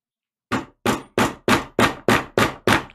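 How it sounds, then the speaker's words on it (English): Hammer strikes on leather during a wallet-making project, eight sharp, evenly spaced blows in quick succession, loud and close with clean silence before the first hit. "I know the hammering's going to be a bit loud."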